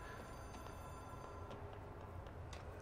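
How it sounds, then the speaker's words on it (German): A telephone rings faintly in the video game Control, a thin electronic ring sitting low beneath a steady background hum. "Oh, das Telefon klingelt schon wieder."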